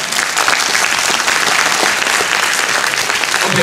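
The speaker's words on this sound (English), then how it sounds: "let's give our applause to his mother." Loud, dense applause from a gala audience in Hong Kong, many hands clapping steadily and close for the whole stretch, without voices on top.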